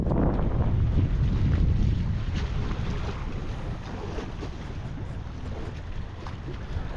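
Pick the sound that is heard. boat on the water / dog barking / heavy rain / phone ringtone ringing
boat on the water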